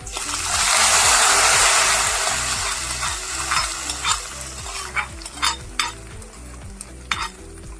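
A hot curry leaf and mustard tempering is poured into a mango fish curry, giving a loud sizzling rush that fades into soft bubbling with a few spoon clinks and stirring sounds.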